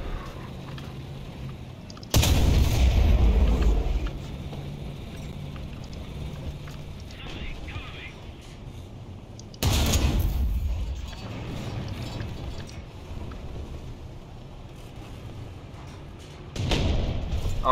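Gunshots ring out in a first-person shooter set on arctic ground: two loud, broadband blasts a few seconds apart with a third starting at the end, over steady ambient game noise, with players talking in between.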